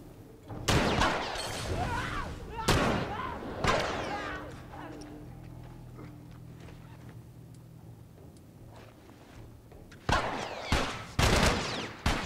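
Loud bursts of gunfire from The Last of Us video game, several sharp close shots in clusters at the start and again near the end, with a quieter gap of ambient sound between them and a voice talking over parts.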